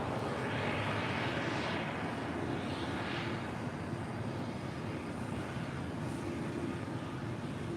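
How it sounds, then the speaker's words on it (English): An Aeromexico Dreamliner jet comes in to land at LAX, a steady broad engine roar with a slow rise and fall in pitch that holds across the whole stretch at moderate, fairly distant level. "That's the Aeromexico Dreamliner coming in from Mexico City."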